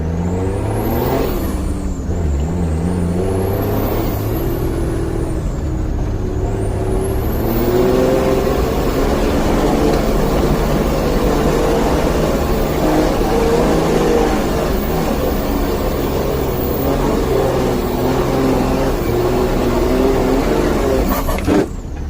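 An 80 series Landcruiser crossing the Simpson Desert, driven in second gear high range with the rear diff lock engaged, gives a steady, close engine drone and drivetrain whir that rises as it pulls along, with no talk.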